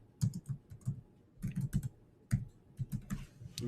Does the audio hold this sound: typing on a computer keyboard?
yes